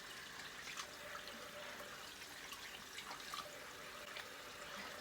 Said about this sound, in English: Even though I end up spraying water all over the sink.